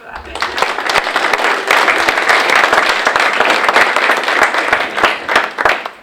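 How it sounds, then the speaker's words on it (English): An audience at a local history museum event on the All-American Girls Professional Baseball League claps steadily for about six seconds, a dense field of hand claps with a few sharper close ones near the end. "one more round of applause for that"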